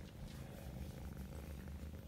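A cat purrs softly and continuously up close, a low rhythmic rumble of steady breaths, quiet and alone with no voices.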